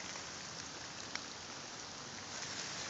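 Steady rain falls on a woodland debris shelter of branches and forest litter, a faint, even hiss with no breaks and no voices.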